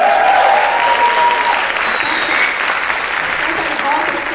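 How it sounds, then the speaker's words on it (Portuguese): Steady, dense audience applause fills a conference hall throughout, loud and close, with a faint voice heard over it. "obrigada pelas palmas"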